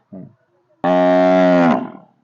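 A bull kept with a team of five oxen lets out one loud, close, drawn-out moo lasting nearly a second, after a short grunt at the start.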